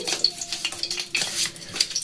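Fried chhana, fried until golden but not burnt, dropped into hot oil in a pan, giving sizzling bursts with metallic clinks of a spoon against the pan and scraping stirring sounds, close and clear.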